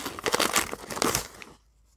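Plastic packaging of an easy peel lint roller crinkles and crackles up close for over a second, then goes quiet.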